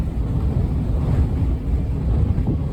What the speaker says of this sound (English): We're getting 40-mile-an-hour gusts